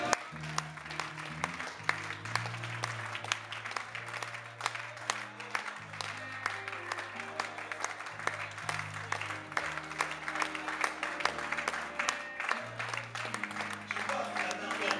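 Audience applause and cheering at a live gospel music event, steady and continuous throughout, mixed with music and bass, fairly loud.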